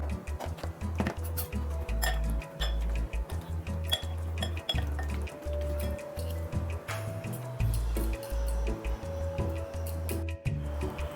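Chicken pieces tossed with salt, pepper and cornflour in a bowl, giving a steady run of close clinks, taps and soft wet stirring knocks with a few short pauses.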